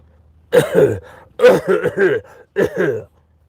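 A smoker coughs and clears his throat in several rough, hacking bursts separated by short pauses, close and loud.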